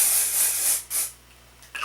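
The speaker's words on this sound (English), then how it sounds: "I will just spray a little bit" Batiste dry shampoo sprayed from an aerosol can in a few short close hissing bursts, the longest first, then a brief puff and a faint click at the end.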